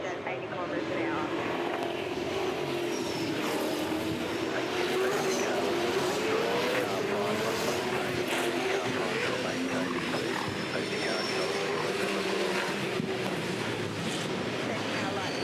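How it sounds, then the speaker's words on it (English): Race cars in a 2011 International V8 Supercars race at Sydney Olympic Park accelerate away as a safety car pulls off, a sustained engine roar rising and swelling for around fifteen seconds with radio talk over it. "Safety car lights are out, acceleration away from the field."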